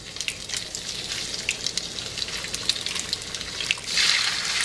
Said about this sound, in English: so there's that sizzling sound